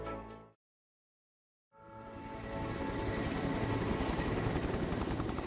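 A Royal Navy airborne early warning helicopter flies over the UK, its steady rotor and engine roar building after a brief silent gap and holding loud and continuous.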